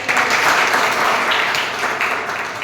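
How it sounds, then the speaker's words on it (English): A room full of people at a Toastmasters club meeting applauds steadily and loudly for the whole stretch, dense overlapping claps with no pause. "Can we have a proper round of applause?"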